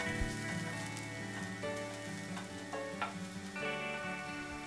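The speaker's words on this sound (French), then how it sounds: "dans une sauteuse à feu vif, un petit filet d'huile, y mettre l'ail haché, l'échalote ciselée" Chopped garlic and shallot frying in a little oil in a sauté pan over high heat give a steady, close crackling sizzle with scattered pops and a musical background, no voices.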